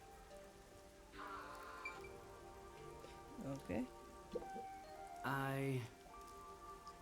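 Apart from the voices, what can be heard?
rain falling in video game Master Detective Archives: Rain Code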